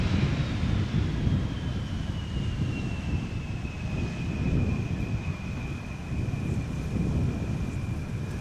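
A KLM Embraer 175 jet arrives at Schiphol. Its engine whine glides slowly downward over a broad, steady rumble, with gusty wind buffeting the microphone throughout.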